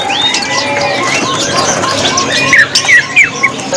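Many caged birds chirp, whistle and squawk at once in a dense, continuous chorus at a bird market, close by, with occasional louder calls near the end; sooty-headed bulbuls and bar-winged prinias among them.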